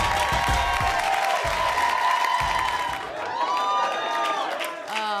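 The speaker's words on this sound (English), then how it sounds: "Put your hands together for Nicole Aimee Schreiber!" A comedy-show audience applauds and cheers loudly after the next comic is introduced, with dense sustained clapping and whoops filling the room and a voice starting to talk near the end.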